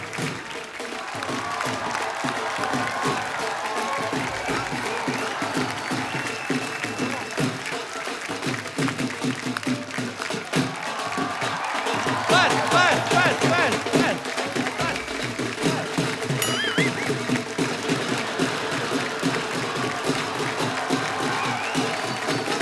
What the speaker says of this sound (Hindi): उसके लिए पहले तो जोरदार तालियां